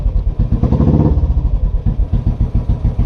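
A Royal Enfield motorcycle engine runs close by, a loud, low, rhythmic thumping idle with steady pulsing beats and a brief mechanical clatter early on.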